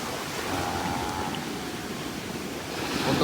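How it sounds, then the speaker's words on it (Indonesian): Strong surf crashing steadily onto a white sand beach lined with casuarina trees, a continuous broad wash of breaking waves with some wind buffeting, close and fairly loud, no talking. "Tuh kan ombaknya kencang ya kalau di sini."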